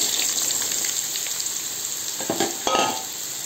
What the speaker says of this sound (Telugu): ఆయిల్ వేడెక్కింది. దాంట్లో ముల్లంగి దుంపలు వేసి వేయించుకోవాలి బాగా.